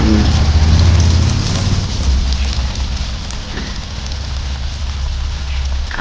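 Egg and jackfruit pakoras fry in hot oil with a loud, continuous crackling sizzle close by. A heavier bubbling rumble underneath eases slightly after the first couple of seconds.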